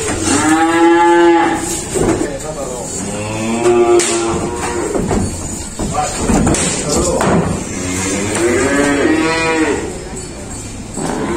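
Cattle and calves at an Indonesian livestock sale, some of them large, moo loudly and repeatedly from close by. Long, drawn-out calls overlap throughout, with occasional thuds in the background.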